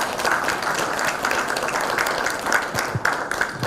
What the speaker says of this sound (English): really give yourselves a round of applause